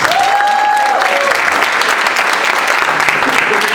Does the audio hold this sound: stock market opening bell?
no